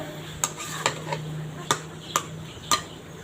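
Meat being sautéed in a pot, a spoon scraping and clinking against the metal at a slow, regular pace, roughly six distinct knocks over a low background hiss.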